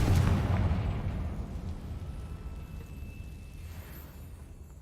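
A single Confringo blasting-spell explosion from Hogwarts Legacy bursts loudly at the start, then a deep rumbling tail slowly fades away over several seconds, with no talking.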